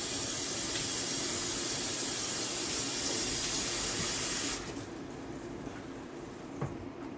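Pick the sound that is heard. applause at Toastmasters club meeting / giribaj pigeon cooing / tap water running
tap water running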